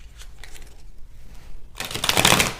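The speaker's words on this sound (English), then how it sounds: "3 shuffles and a cut." A deck of tarot cards is shuffled by hand, first softly, then in a loud, dense riffling burst close to the microphone.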